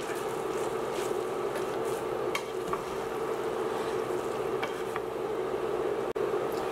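Noodles with oyster sauce sizzle steadily in a hot pan while being tossed with two spatulas, a constant frying hiss broken by occasional faint scrapes and clicks.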